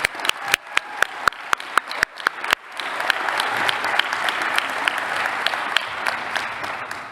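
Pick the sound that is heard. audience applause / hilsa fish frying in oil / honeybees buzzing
audience applause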